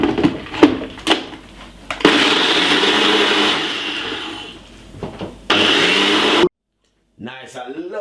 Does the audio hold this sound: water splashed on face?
no